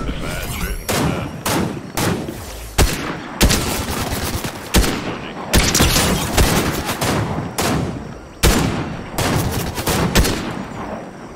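Rapid bursts of gunfire from a shooting game stream, with repeated sharp volleys and short pauses throughout, loud and close, with occasional quiet talk underneath.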